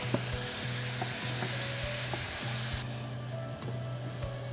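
Spices frying in a pan with a little water for a dried-fish, eggplant and potato curry, a steady dense sizzle with regular scraping stir strokes throughout, close and fairly loud, no talk.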